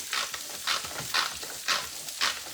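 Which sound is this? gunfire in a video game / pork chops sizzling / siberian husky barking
pork chops sizzling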